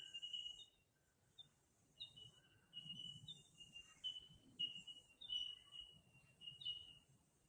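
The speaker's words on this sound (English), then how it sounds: "I pause to listen to the bellbirds" Faint, clear bell-like calls of bellbirds ring out intermittently over a soft insect hum in a quiet forest at Glenrock State Recreation Area.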